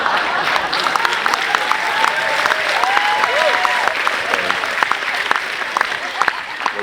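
A comedy show audience applauds a comedian, sustained crowd clapping with scattered cheers and whoops, loud and full throughout, with a voice briefly audible in the mix.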